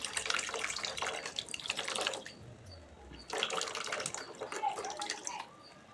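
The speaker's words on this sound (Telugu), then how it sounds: "దీంట్లో మనం చింతపండు పులుసు పోసుకుందామండి" Tamarind pulp being poured into a fish curry, a wet, splashing pour in two bursts with a pause between, close and fairly loud.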